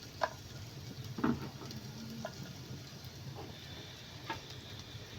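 Chopped ginger and garlic sizzle in hot oil in a pan, a faint steady frying hiss with a few soft clinks of utensils, no voices present.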